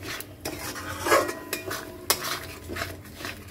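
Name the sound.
chicken being stirred and sautéed in a pot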